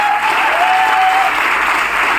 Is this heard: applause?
yes